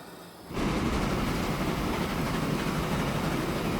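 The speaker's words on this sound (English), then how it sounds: "it is waiting for a passenger train to pass by" A crude oil freight train in the video game Transport Fever rolls past. Its rumbling roar starts abruptly after a quiet moment, then holds at a steady, loud level to the end.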